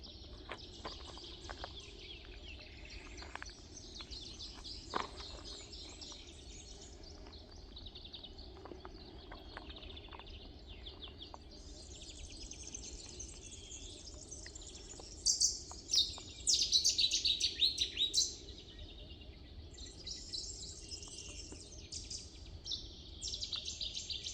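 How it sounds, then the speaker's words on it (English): Birds chirp and sing continuously along a countryside walking trail on the Via de la Plata between Alija and La Bañeza, with a denser, louder burst of song midway over quiet outdoor ambience. "Lots of bird sounds."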